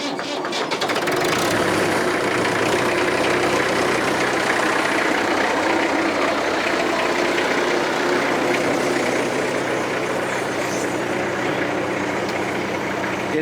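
A farm tractor fitted with a PTO-operated hydraulic loader starts and runs close by, its heavy diesel engine holding a steady loud idle rumble with faint voices in the background.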